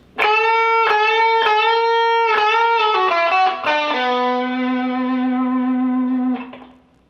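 Distorted electric guitar, an Ibanez Nita Strauss JIVA10 on its middle pickup position, picking a run of bright individual notes that step downward, then a long sustained note ringing out and fading, played alone and up close.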